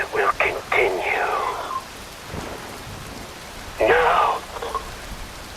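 Rain in the video game Metal Gear Rising Revengeance falls as a constant, soft hiss beneath bursts of spoken dialogue.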